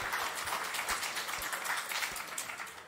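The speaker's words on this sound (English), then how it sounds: "give them an even louder round of applause" A debate audience applauds the winning team in a continuous wash of clapping, fairly quiet and distant-sounding across the short stretch.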